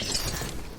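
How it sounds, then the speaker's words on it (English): Objects being smashed in the video game Dragon Age: The Veilguard, a single short, dense shattering crash that breaks apart with crunchy debris and nothing else around it. "Smashing stuff does lead to other stuff."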